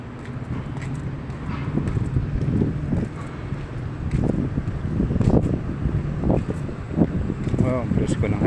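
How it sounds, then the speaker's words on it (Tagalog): A fresh outdoor breeze buffets the microphone in uneven rumbling gusts during a brisk Sunday walk, with faint voices and footsteps mixed in. "Presko ng simoy ng hangin."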